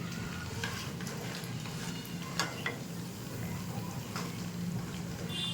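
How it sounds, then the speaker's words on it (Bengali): Flour snacks fry in oil on low heat, giving a soft, steady sizzle with occasional light ticks and pops, quiet and close. "এগুলো তাড়াতাড়ি হয়ে যায় ভাজা, একদম লো হিটে ভাজতে হবে।"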